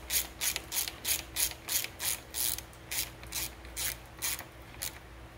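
A hand ratchet snugs down spark plugs on a 2017 Yamaha 115 SHO outboard during a 200-hour service, giving about a dozen crisp, evenly spaced clicking bursts close by with no talking.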